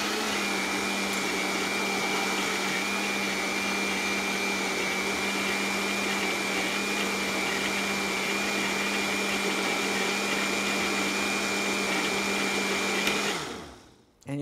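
A blender runs steadily on a green drink meal, whirring loudly and evenly for about thirteen seconds before spinning down and stopping near the end.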